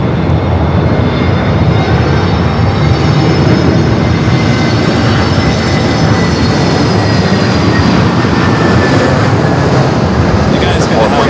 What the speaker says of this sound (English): We do have the Lufthansa A380 coming in from Munich